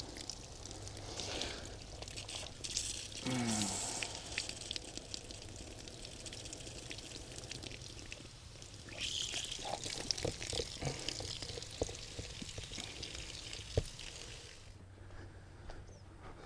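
Water runs through the rough-in plumbing of a tiny cabin during a leak test, a continuous splashing, pouring flow with gurgles and drips that carries on for most of the stretch before tapering off.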